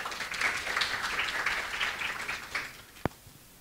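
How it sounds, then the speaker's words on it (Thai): Seminar audience applauding to welcome a guest speaker at a talk on cyber-physical systems and smart factories, a steady patter of clapping from a moderate crowd lasting about three seconds, ending with one sharp clap. "ขอเสียงปรบมือต้อนรับ"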